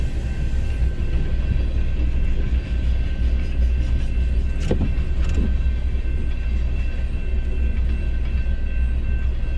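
A train passes a gated railroad crossing on a snowy road, heard from a stopped car as a steady, loud low rumble with brief rail clatter midway, no talk.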